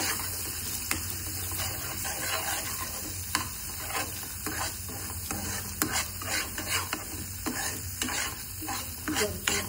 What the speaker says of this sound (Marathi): सगळं बॅटर हलवायचं आहे.